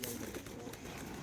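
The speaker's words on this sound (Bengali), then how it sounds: "কবুতর এই যে একটা আগে ভিতরে চলে যাচ্ছে, এই আরহানের কাছে একটা কবুতর দাও" A pigeon at a pigeon loft gives a faint, brief soft coo, heard from a short distance against low background noise.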